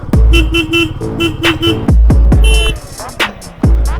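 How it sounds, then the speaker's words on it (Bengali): A car horn honks repeatedly on a forest road in Purulia, loud and close, sounding in rapid multi-beep bursts separated by short pauses with engine noise underneath. "হর্ন দাও"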